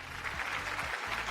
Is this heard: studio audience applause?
yes